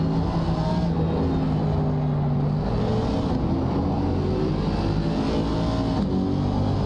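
Race cars in ACC brake into turn 3 at the Hungaroring, engines roaring loudly and steadily with downshifting pitch changes as several cars run close together through the braking zone.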